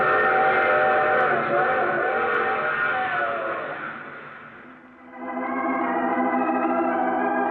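A train sound effect from an old-time radio drama, with a long, loud, sustained steam-style whistle chord that dips and fades mid-way, then returns with a shifted pitch over rumbling rail noise.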